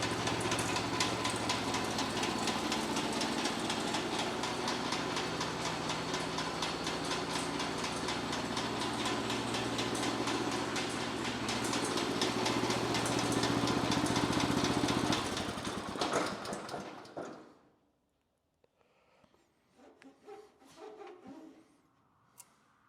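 A Wood-Mizer sawmill engine idles with a steady, droning mechanical hum and spinning belt, then cuts out abruptly, leaving a few faint scattered clanks and rustles.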